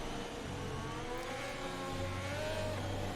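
Haas car engine in F1 2022 at the Emilia Romagna GP, idling and revving behind the safety car with cold tyres and engine; a steady, loud engine drone with rising tonal whine, no talk.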